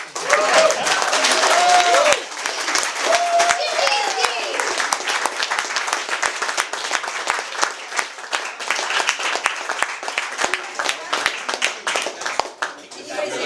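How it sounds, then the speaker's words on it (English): Crowd applause and clapping at a talk or live event, dense and steady for the whole stretch, with a person speaking over it briefly at the start. "So can I get a big round of applause for this?"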